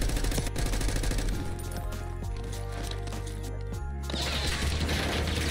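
Gunfire rattles through a Black Ops 6 Warzone match, with bursts of rapid automatic shots, sharp cracks and crashing impacts that are loud and close and then stop abruptly.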